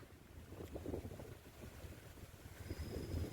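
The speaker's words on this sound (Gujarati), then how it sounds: "અને પવન પણ સારો જ છે અહીંયા" Low, gusty wind buffets the outdoor air beside a lake in a steady rumble, with faint water lapping underneath.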